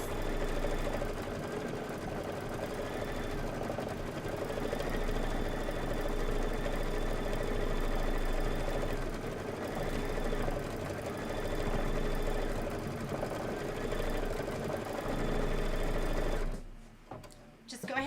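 Close by, a sewing machine hums and rattles in a steady continuous run as it stitches a pillow, then stops abruptly near the end.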